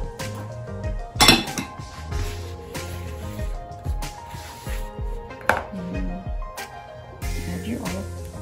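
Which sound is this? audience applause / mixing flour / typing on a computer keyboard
mixing flour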